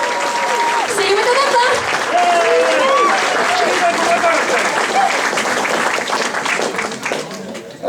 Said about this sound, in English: A round of applause for HotaruCon.